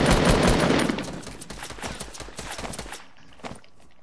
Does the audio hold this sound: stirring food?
no